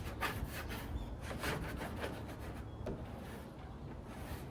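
Stubborn chemical stripper being scraped off a wooden dresser, a steady close scratchy rasping with repeated strokes against wood, continuous and moderately loud with no talking.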